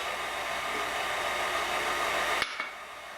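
An electric stand mixer beating Ukrainian Easter paska dough with eggs and butter: a steady, loud, close whirring hum that runs unbroken and then cuts off abruptly, leaving a couple of small clunks, with no talking.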